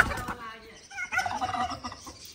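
A partridge hen flaps and struggles while being caught by hand, a short burst of close wing beats and bird calls under background noise and murmuring voices.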